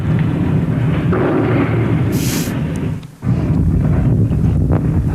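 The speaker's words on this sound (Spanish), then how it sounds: "Ahí se escucha el motor del avión." A loud, steady airplane engine drone buried in wind-like roar, with a brief dip near the end and no voices.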